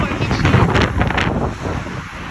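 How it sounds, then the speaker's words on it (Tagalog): Strong wind roars and buffets the microphone continuously on a UAE seashore, a loud rushing gust throughout with a faint hint of water in the background. "Grabe yung hangin."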